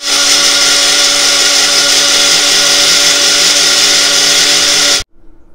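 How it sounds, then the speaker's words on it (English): A small blender whirs loudly and steadily for several seconds, then cuts off abruptly, leaving a brief quiet tail. "mix it up in my little blender"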